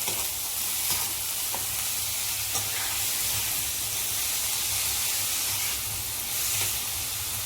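Spiced fenugreek seed curry (methi dana shaak) with red chilli being stirred in a hot pan, giving a steady close sizzle and frying hiss with soft scraping strokes throughout, no talking.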